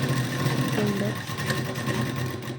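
A sewing machine runs steadily, stitching a half-inch seam at the shoulder of a katori blouse, a continuous mechanical whir with a light rhythmic clatter, close and fairly loud, with no voices.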